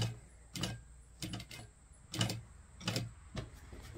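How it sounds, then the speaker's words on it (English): A sewing machine stitching a straight seam on a fabric project, heard as soft, close, uneven mechanical thumps and whirs roughly every half second over a steady low hum. "So the first thing I want to do is just sew a straight line."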